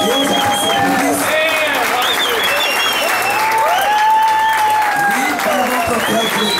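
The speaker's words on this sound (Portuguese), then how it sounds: "eu quero que vocês aí aplaudem o Valdeci" Audience applause at a mountain bike race award ceremony, steady dense clapping throughout with a voice talking over it.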